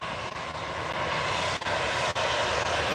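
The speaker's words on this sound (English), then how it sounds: "it's a Jet 2 lining up" Jet2 airliner lining up on the runway at Newcastle International Airport, its engines giving a loud, steady roaring hum heard from nearby, with a couple of brief dips, no talking.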